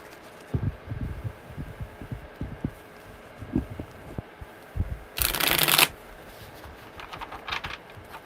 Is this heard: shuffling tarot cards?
yes